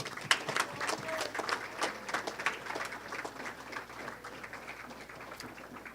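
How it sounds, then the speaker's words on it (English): Scattered applause from an audience at an esports awards ceremony, a steady patter of claps at moderate distance that thins slightly toward the end. "One more round of applause for Taylor."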